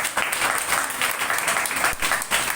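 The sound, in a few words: congregation clapping loudly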